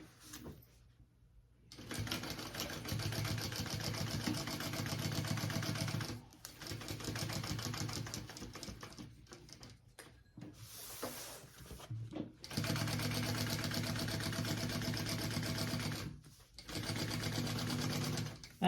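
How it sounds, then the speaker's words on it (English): Sewing machine stitching a bag pocket onto its lining piece, running in long steady bursts with short pauses between, close and clear under quiet room tone. "We're just going to sew this onto our lining piece."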